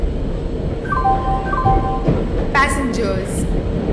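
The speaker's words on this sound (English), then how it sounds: "Train number 1207 Shatabdi Superfast Express is arriving at" Shatabdi Superfast Express train arriving in Indian Train Simulator, a steady rolling rumble with a few tonal horn or chime notes and brief squeals, under a station-style announcement voice.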